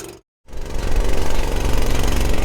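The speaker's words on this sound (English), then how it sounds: "we have the diesel going in the tractor" A diesel engine in an older farm tractor runs loud and close with a rough, knocking idle, kicking in after a brief moment of silence and chugging on steadily with no voices.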